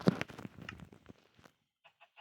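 Minecraft chickens clucking, a quick cluster of close clucks at the start fading into a few faint, sparse clucks toward the end.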